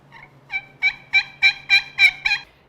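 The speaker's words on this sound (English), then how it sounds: "This is a rabbit distress call. It's used for hunting coyotes and predators." A handmade rabbit distress call used for hunting coyotes and predators gives a run of about eight loud, close, wavering squeals in a steady rhythm, each one rising in intensity, with no talk.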